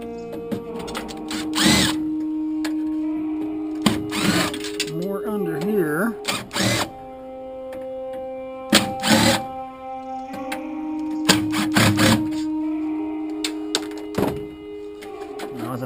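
A power drill whirs in repeated short bursts, backing screws out of a tankless water heater, with clanks and handling thunks between runs, while someone talks.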